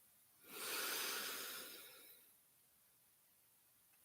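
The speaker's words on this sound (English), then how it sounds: "Take one deep breath here." One deep breath drawn in and let out during a morning meditation. The breath rises sharply, holds as a broad airy rush for about a second and a half, then fades away into quiet, soft and close with no talk.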